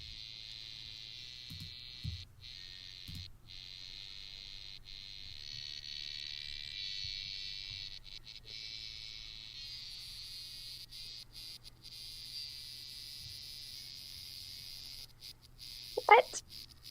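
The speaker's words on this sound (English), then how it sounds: "This is Taco Bell's Cannon, played by a cicada." A continuous high, buzzing cicada drone, edited to play Pachelbel's Canon, fills the clip, slightly wavering in pitch, with faint low thumps and a brief sharp noise near the end.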